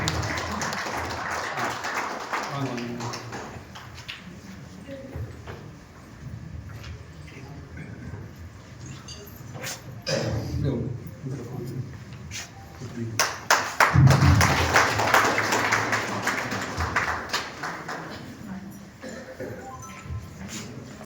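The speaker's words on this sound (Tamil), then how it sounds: "ஒரு பெரிய கரகோஷம் கொடுத்துள்ளோம்." An audience at a Women's Day celebration in Ooty claps in uneven bursts under ongoing talk and room noise. A louder surge of clapping comes midway.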